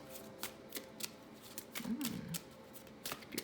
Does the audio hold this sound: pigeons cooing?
no